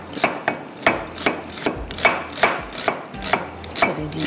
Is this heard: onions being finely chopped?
yes